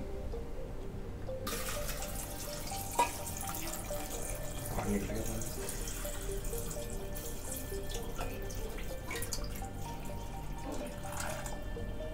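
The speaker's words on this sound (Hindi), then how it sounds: "पैन के अंदर है मैक्रोनी ठीक है और ऊपर से डालना पड़ेगा हमें ये पानी" Water pours from a tap into a pan of macaroni in a home kitchen, a steady moderate splash and trickle under a few brief spoken words.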